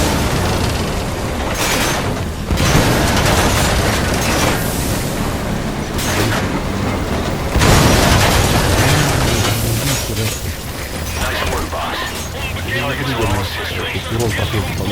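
Tank cannon blasts and explosions from the video game Metal Gear Solid V: The Phantom Pain, loud booming bursts recurring every few seconds amid dense battle noise, with someone talking throughout.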